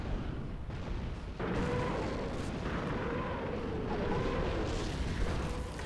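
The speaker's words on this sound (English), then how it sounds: "here comes the Panzerwerfer" Panzerwerfer rocket artillery fires in the World War II strategy game Company of Heroes, rushing launch bursts and rumbling booms blending into a continuous wash of loud battlefield noise.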